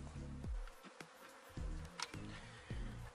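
Honey bees buzz around a hive box as the queen bee re-enters it, a steady near insect hum broken by a few sharp taps and clicks, with no talking.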